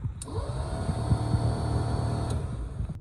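Quiet sharp clicks sound at the start and near the end over a steady low whirring hum, like a starter motor spinning, from a boat's engine on the Intracoastal Waterway.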